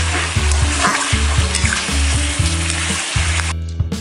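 Mutton being sautéed kosha-style in a pan for Bengali mutton curry: a loud, steady sizzle and fry runs throughout, with the meat stirred and scraped in repeated pulses and no talking.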